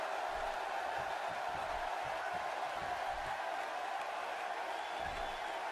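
Arena crowd at a wrestling championship match greeting the champion, a steady broad roar with faint whoops, heard alone at a moderate distance.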